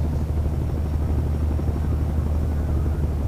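A Huey helicopter engine and rotor in the Project Reality video game, a steady, loud, low thudding drone that runs throughout without talk.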